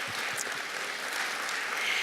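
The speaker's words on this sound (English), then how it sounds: "So just a round of applause to both the students and to the parents in the room." A room of admitted students and their parents applauds at a college welcome session, making a continuous, even wash of clapping that holds steady and sounds moderately distant throughout.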